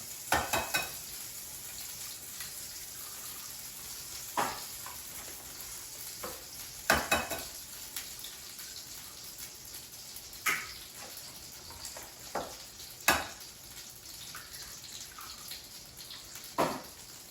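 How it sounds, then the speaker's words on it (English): Milk and eggs being whisked together in a bowl for brioche French toast: intermittent clinks and taps of the utensil against the bowl, with soft liquid swishing, spread over a long, fairly quiet stretch. "I'm going to mix the rest of the ingredients. So I'm going to use 3/4 cup of milk and 3 eggs."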